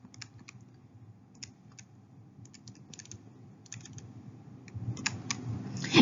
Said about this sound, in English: We type the whole problem in on the calculator just as it is written with the parentheses and everything.